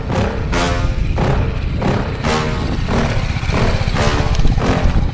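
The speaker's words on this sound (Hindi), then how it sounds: "खड़बड़ खड़बड़ करते हुए ये लो फाइनली हमारी बाइक पहुंच भी गई है यहाँ पे।" A BMW 310GS motorcycle rides over rough off-road ground, its engine droning loudly and steadily while repeated thumps and clattering knocks come every second or so as it jolts along.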